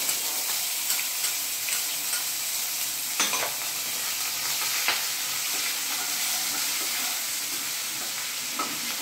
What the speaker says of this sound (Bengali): আদা রসুনটা একটু নেড়ে নিলাম।